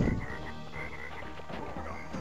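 A cartoon frog in the video game Crash Bandicoot 3 Warped croaks over busy game music and effects, giving a few repeated mid-pitched croaks within the steady soundtrack and no talking.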